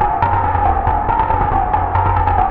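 Synthesizer tones from a Vic's internal synthesis, played through a reverb space effect, ring out steadily with repeated soft note attacks and a lingering wash of reverb tail, moderately loud and with no voices.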